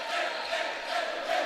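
A crowd celebrates a junior boys' volleyball final win with a steady wash of loud cheering and shouting. No single voice stands out.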